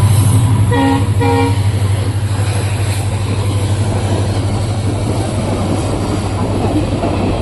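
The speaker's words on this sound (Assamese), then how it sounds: "চেক কৰক গাইজ পুৰা ট্ৰেইন গৈ আছে" A train rumbles past close by a level crossing in Arunachal Pradesh with a steady low drone, and two short horn blasts sound near the start.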